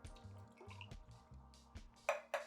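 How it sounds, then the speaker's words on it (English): Coconut milk is poured from a container into a measuring cup in a kitchen, making a brief close liquid pour with soft drips and splashes over a quiet background. "I'm gonna pour the coconut milk into my measuring cup."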